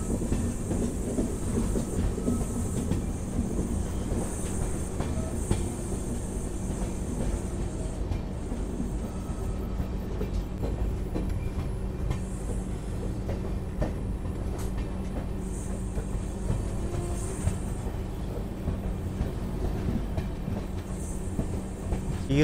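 Sairang to Kolkata express train rolling along tracks on the Mizoram line, a steady loud rumble of wheels and carriages with faint rhythmic clatter throughout, no voices.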